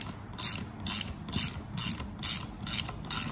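A ratcheting screwdriver turns screws back into the front grille emblem of a 2011–2014 Ford Edge, giving seven evenly spaced bursts of crisp clicking, close and clear, with no voices.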